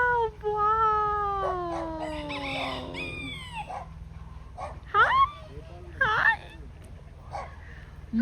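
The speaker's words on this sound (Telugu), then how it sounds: "ఎన్ని డాగ్స్ ఉన్నాయి" Several dogs bark in a few sharp bursts from a short distance in Arkansas, and a rooster-like drawn-out call rises and falls at the start.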